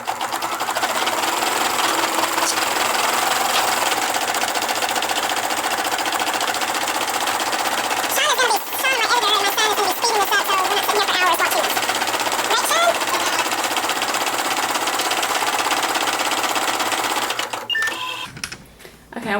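An embroidery sewing machine stitches an owl mug rug, running a fast, loud, steady mechanical chatter for most of the stretch, with a brief change in rhythm midway and handling noises as it stops at the end.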